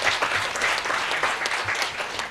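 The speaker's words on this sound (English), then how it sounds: "Please, let's clap for them." An audience gives sustained applause to acknowledge an executive secretary and her team, a thick, continuous wash of many hands clapping in a room, steady throughout with no speech.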